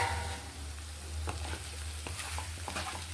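Potato curry with aloo is stirred in a pan on the stove, a spoon scraping in soft, uneven strokes over a faint, steady sizzle with no talk.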